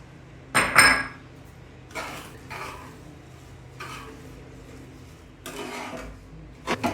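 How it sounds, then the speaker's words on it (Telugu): Softened vermicelli stirred with jaggery powder in a pan for semiya burelu: a few close metallic spoon clinks and scrapes against the pan, separated by quiet gaps. "ఇప్పుడు మనం బెల్లం పౌడర్ వేసుకుని బాగా దగ్గర పడే వరకు కలుపుకోవాలి."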